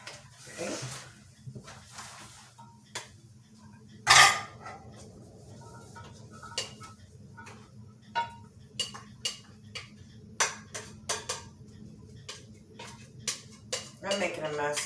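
Stuffing spooned from a pan into a casserole dish: scattered clinks and scrapes of a spoon against cookware, with one sharp knock near the start and a quick run of taps toward the end, over faint room hum and soft voices.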